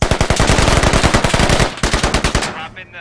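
Enemy machine-gun fire in the Squad military shooter hammers in a fast, loud, evenly spaced stream of close shots that breaks into shorter bursts and trails off at the end.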